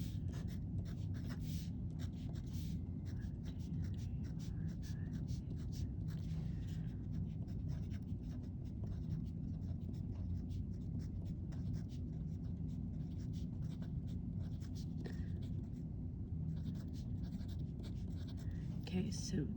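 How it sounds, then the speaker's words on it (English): A pencil drawing a number line on paper, quick scratchy strokes in short bursts over a low steady room hum, close and fairly quiet, with no talk. "I need to draw my number line."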